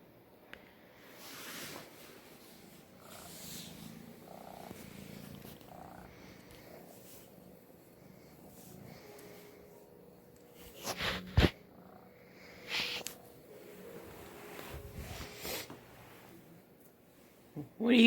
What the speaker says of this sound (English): You just purring the entire time?